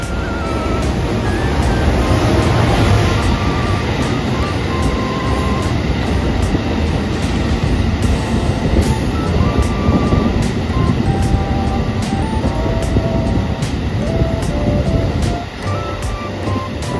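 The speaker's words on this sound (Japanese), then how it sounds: "EF210 型172号機と赤穂機2000型が通過していきました。" A loud, sustained rumble and clatter of an EF210 electric locomotive hauling a train past close by in Aichi, Japan, with rhythmic wheel clicks and a steady roar that fades slightly at the end.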